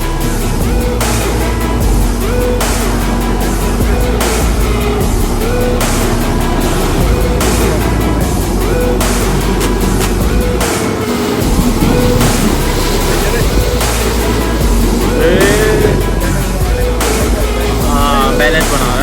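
A water sport vehicle's engine roars at Tehri Dam as it revs loudly and keeps going, with water splashing and wind noise. Voices talk over it throughout.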